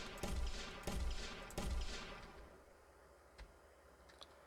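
Gunfire at a fracturing mesh in an Unreal Engine 5 Chaos destruction demo, heard as three quick muffled shot-like bursts followed by a fading rumble and a couple of faint ticks.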